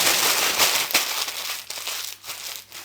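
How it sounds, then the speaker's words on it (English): Close, loud crinkling of stiff baking paper being balled up, a continuous crackly rustle lasting a few seconds with no talking. "Crumple it up."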